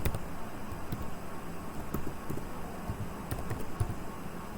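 Typing on a computer keyboard during a Linux command-line session, a run of quick close key taps in an irregular rhythm over a steady low hum.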